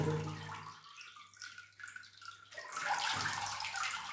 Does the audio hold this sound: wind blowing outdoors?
no